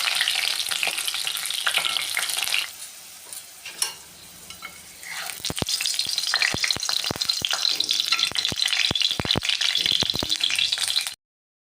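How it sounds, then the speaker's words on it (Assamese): The last pakoras frying in hot oil make a loud continuous sizzle, stirred and turned with a spoon that lands in a run of rapid metallic clinks and scrapes against the pan before it stops abruptly. "বাকী থকাখিনিও ভাজি দি আছোঁ গোটেইখিনি।"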